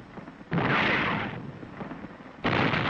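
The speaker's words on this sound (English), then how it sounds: "Artillery commenced to bombard the city," Artillery bombards a city on Okinawa in authentic 1945 colour war footage, two heavy booming blasts with a rumbling roar between them, loud and dense, the second blast starting near the end.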